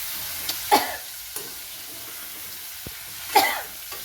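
Bitter gourd (karela) being stirred in a frying pan with faint, steady sizzling under two brief louder scrapes of the spatula against the pan.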